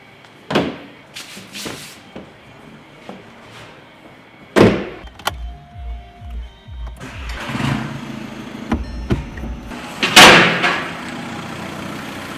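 An Audi A1 engine with a blocked DPF and the exhaust disconnected from the turbo revs up in several bursts, with clunks and mechanical knocks between them, close and fairly loud, without speech.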